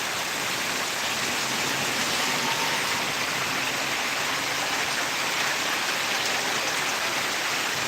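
Heavy downpour pours down in a steady, dense hiss with no break, loud and close, with no voices over it.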